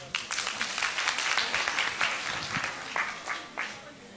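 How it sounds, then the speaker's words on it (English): An audience at a youth stakeholder engagement session in Johannesburg applauds a speaker, a moderate, steady patter of many hands with scattered sharper claps, heard somewhat distant in a hall. "give her a round of applause"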